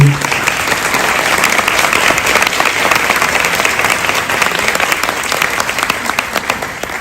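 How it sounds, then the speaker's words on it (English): A crowd at a live community event gives sustained applause, a dense, loud wash of clapping that holds steady for several seconds with no talk over it. "Just a round of applause for me."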